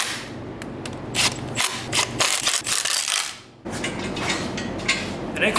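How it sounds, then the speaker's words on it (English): Bolts on the timing cover of an FC RX-7 rotary engine are tightened down with a ratchet. Repeated close, sharp clicking bursts come in quick strokes, with a brief quieter gap midway. "we can go ahead and tighten down our timing cover now"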